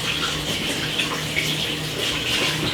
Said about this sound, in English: I'm just gonna be washing off my hand.